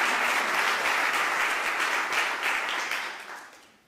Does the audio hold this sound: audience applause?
yes